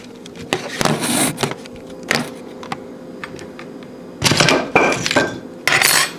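A butter knife pries at AK47 rifle parts on a WASR 10, giving sharp metallic scrapes and clinks in irregular close bursts with quieter pauses between them.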